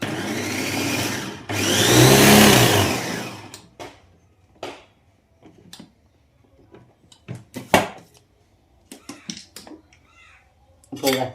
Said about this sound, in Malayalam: ഇത് ഞാൻ ഒന്നര വർഷം കൊണ്ട് ഉപയോഗിക്കുന്ന ഒരു ചോപ്പറാണ്